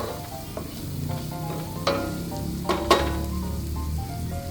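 Spices for five-spice beef shanks frying and being stirred in a pan, with a steady low sizzle and a few sharp scraping clicks of the spoon against the pan, close and moderately loud.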